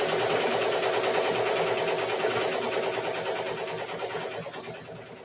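A Ricoma MT 1501 embroidery machine in need of oil stitching steadily, a loud, continuous rapid mechanical whir that fades slightly near the end.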